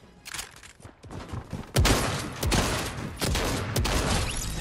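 Gunfire in the video game Fortnite at Tilted Towers comes in rapid bursts of sharp shots, growing louder and denser through the clip.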